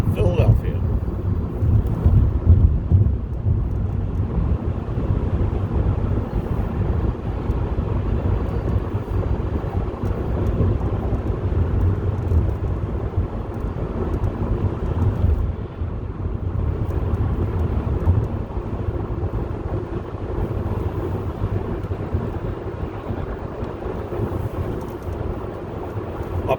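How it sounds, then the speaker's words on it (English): Steady road and wind roar from inside a car cruising northbound on I-95 through Philadelphia, a continuous loud low rumble with no break. "Today we're driving on I95 Northbound from Penn's Landing through to the Cottman Avenue exits in Philadelphia."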